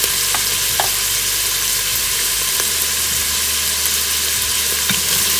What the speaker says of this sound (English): Give that a good mix. Let the raw smell of ginger garlic paste go.